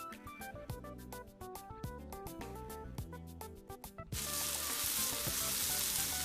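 A pan of caterpillars and parsley goes from faint music with light clinks to a sudden loud, steady sizzle of frying that holds on to the end, with no voices.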